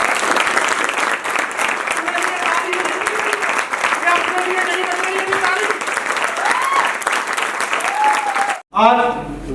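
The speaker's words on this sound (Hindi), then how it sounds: "एक बार अपने लिए भी ताली बजा के दिखा" A seminar audience applauds loudly and continuously for themselves, with cheering voices rising over the dense clapping before it cuts off and a voice begins speaking.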